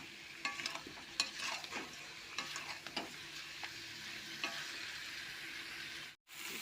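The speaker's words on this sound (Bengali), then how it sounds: "চিকেন আলু মশলা এখন আমি কষছি" Chicken, fried potatoes and spices stir-fried together in a pan, with repeated spatula scrapes and stirring knocks over a soft steady sizzle, fairly quiet and close.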